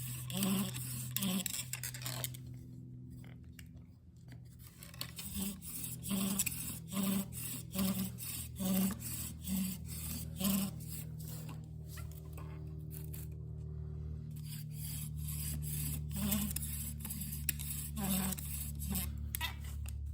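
A wooden bow drill spins against a wooden fireboard to make fire, giving a steady rubbing, scraping rasp with rhythmic back-and-forth strokes, close and continuous at a slow, even pace.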